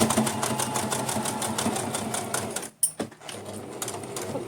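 A sewing machine runs steadily at close range, stitching a fur-trimmed winter outfit of thick fabric, its rapid needle chatter briefly cutting out before resuming.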